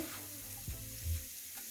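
Vegetables, including carrots, sizzle and crackle steadily in hot oil, with one brief louder stir partway through. No voices.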